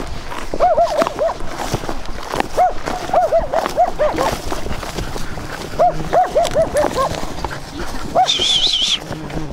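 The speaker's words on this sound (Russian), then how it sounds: "Кто там лает? Это не наша собака." Dog barking outdoors in the countryside by water, a series of short yelping barks in clusters, moderately distant, with some background rustle and a brief higher whine near the end.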